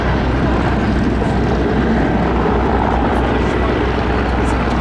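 Two military aircraft come in to land at the Duxford Battle of Britain airshow, giving a loud, continuous engine roar that stays constant across the whole stretch, with outdoor background noise.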